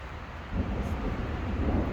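Low, rolling thunder from an approaching thunderstorm while backpacking in the Black Hills, rising into a louder rumble after a quiet start and holding as a broad, steady roar.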